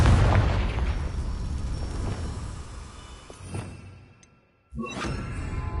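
In the Hogwarts Legacy video game, a Confringo spell erupts in a loud explosive boom that rumbles and fades away over several seconds, drops to near silence, then a second sharp blast hits.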